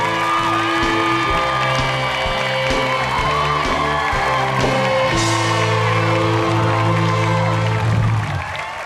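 An audience at a Thai television contest show applauds and cheers to welcome a contestant, sustained clapping with whoops under bright stage music, steady and loud throughout.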